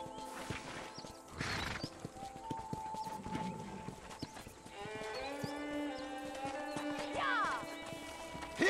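Rhythmic horse hoof clip-clops at a ranch corral in Red Dead Redemption, over a busy game soundscape with background music and scattered noises, steady and moderately loud throughout.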